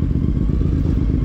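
A CFMOTO 450MT motorcycle engine braking down a mountain descent in Benguet, a steady low rumble with faint clatter running loud and close throughout.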